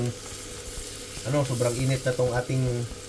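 Butter with a little olive oil sizzling and crackling in a very hot pan, a constant close frying hiss that continues while someone talks over the second half.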